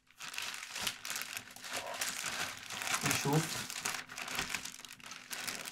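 A plastic bag crinkles and rustles close by while a small studio speaker is unboxed from its carton, continuous handling noise with brief louder crackles, under someone talking.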